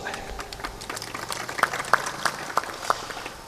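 Weak, sparse applause from a spiritual discourse audience: scattered individual claps, a handful of distinct sharp hand claps spaced apart over a low background murmur.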